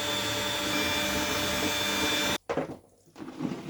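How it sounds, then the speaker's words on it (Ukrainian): An electric meat grinder runs with a steady, loud whirring drone while it minces fish with melted cheese for fish patties, then cuts off abruptly, leaving quieter clatter and handling sounds. "Вмикаємо знову м'ясорубку і все."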